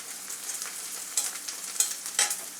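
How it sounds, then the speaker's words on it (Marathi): Onion with ginger, garlic and green chilli paste sautés in a hot pan for a spicy dry green bean dish. A steady, close sizzle runs throughout, with brief louder bursts as the mixture is stirred. No one speaks. "भाजून घेऊया चांगले एक मिनिटभर फक्त परतायचं"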